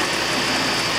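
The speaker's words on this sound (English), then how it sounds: "If I turn the spindle on" Surface grinder spindle motor under CNC control running at a steady, loud, even whir for the whole moment, no talking.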